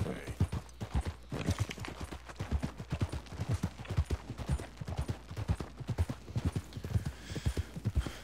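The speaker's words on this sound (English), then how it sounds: "Feed your horse. Feed your horse." Horse hooves clip-clop in a steady, brisk gait in Red Dead Redemption 2, the hoofbeats close and distinct over faint ambient game sound.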